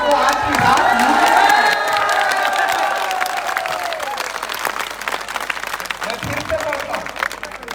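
Audience applause and cheering at an Urdu-Hindi poetry recital, a dense crowd clapping loudly at first, then slowly thinning and fading over several seconds with scattered shouts.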